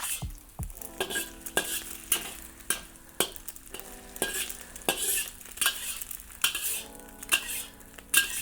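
A spoon with raised edges stirring and scraping food in a wok over a gentle sizzle, with repeated sharp metallic clinks and knocks in an uneven rhythm.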